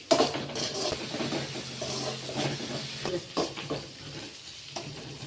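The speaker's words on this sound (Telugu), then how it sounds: "ఫ్రై చేస్తున్నాను" Onions frying in a pan for an egg and pasta dish: a steady close sizzle and hiss with a few stirring scrapes, alone and with no voices.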